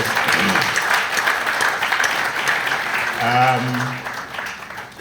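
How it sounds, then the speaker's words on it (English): Audience applause at a conference gathering of CEOs, a dense, sustained patter of clapping from a room full of people that fades toward the end, with a voice briefly cutting in. "Let's give him another round of applause."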